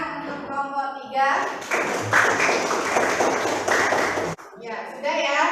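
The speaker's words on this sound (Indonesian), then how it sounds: "beri tepuk tangan untuk kelompok 3" A classroom of students claps for a presenting group, a burst of applause lasting about three seconds between stretches of speech.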